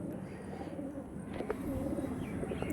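A pigeon coos in soft, low rolling phrases against a steady background hum, with a few faint chirps and clicks and no clear speech.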